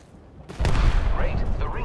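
Gunfire and a thermite grenade in the Apex Legends video game: a quiet lead-in, then a sudden loud blast that becomes a dense, roaring wash of combat noise with crackling bursts on top, and no voices.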